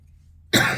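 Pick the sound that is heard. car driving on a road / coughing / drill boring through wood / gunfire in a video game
coughing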